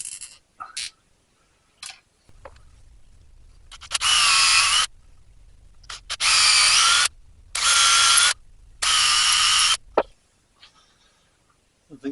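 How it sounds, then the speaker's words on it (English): A small power drill bores a hole into a piece of cane. Four loud, whining bursts of a second or so each are separated by short quiet pauses, with faint clicks before and after. "So just drilled a small hole in there"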